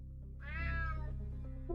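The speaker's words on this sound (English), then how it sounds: "Damn cat." A single drawn-out cat meow, rising then falling, sounds over a low droning background in the video game UnMetal.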